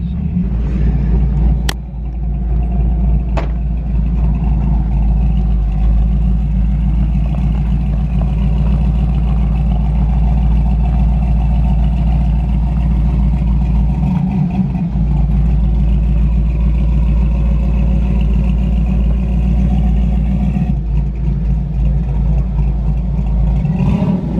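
An LS-swapped 1984 GMC C10 square-body pickup holds a steady, loud engine drone with deep rumble throughout, close up, with brief clicks early on and no talk.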